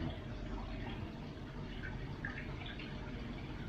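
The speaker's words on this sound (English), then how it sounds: "Drain mode. We're just draining it out." A Washtech UL Premium undercounter dishwasher drains water in a steady, continuous rush and gurgle, a close and constant wash of noise with no talk over it.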